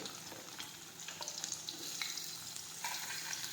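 Okra, potato and tomato sauté in a pan with a steady, fairly quiet sizzle and occasional stirring clicks, no voices.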